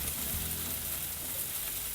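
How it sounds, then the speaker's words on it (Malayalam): Onion and capsicum softening in a pan for a fish curry, a soft, even sizzle with a faint low rumble, brief and continuous, no voices. "നമ്മുടെ ഈ സവാളയും ക്യാപ്സിക്കം ഒന്ന് ചെറുതായിട്ടൊന്ന് വാടി വരട്ടെ."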